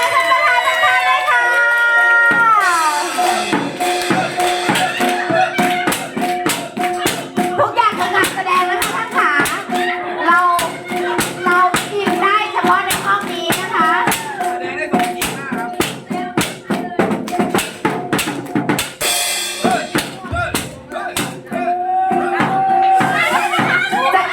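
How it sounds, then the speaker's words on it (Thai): Guests at a Thai wedding show clap hands steadily in a dense, sustained round of applause, with a few sharper individual claps and brief voices and music underneath. "ขอเสียงปรบมือนะคะ"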